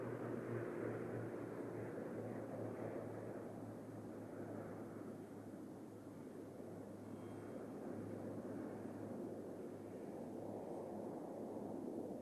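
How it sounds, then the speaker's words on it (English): Pilatus PC-9 turboprops of the RAAF aerobatic team at the 1992 Avalon air show, a steady distant drone of engines with broad wind-like noise and no voices. "The aircraft are a Swiss design, the Pilatus PC-9, built under licence by the Hawker de Havilland Company in Sydney."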